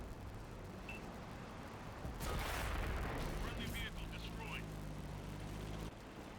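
A 105 mm tank gun fires in World of Tanks on console, a sharp broadband blast with a rumbling tail amid continuous engine and battle noise.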